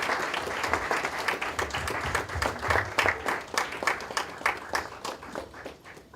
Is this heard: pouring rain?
no